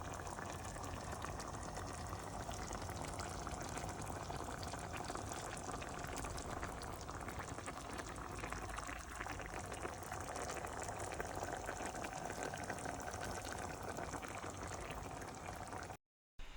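Chicken breast simmers in a creamy parmesan sauce on very low heat, a soft continuous bubbling and gentle crackle that stays steady and close throughout, with no talk.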